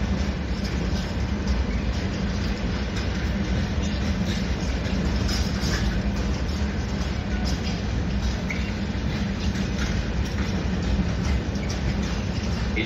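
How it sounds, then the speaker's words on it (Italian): A Trenitalia Frecciarossa high-speed train pulls in at a station platform, a steady loud rolling rumble with faint rail clatter and wheel hiss running for the whole stretch, no voices. "Il treno alta velocità Freccia Rossa"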